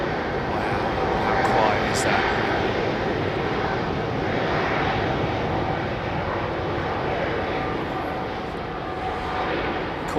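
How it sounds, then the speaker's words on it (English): A short takeoff and landing airplane at London Heathrow gives a steady, loud engine roar that fills the whole stretch and holds fairly constant, with a broad rushing texture throughout. "This aircraft has short takeoff and landing capability"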